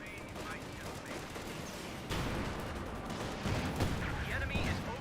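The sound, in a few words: frag grenade and gunfire in video game Company of Heroes 2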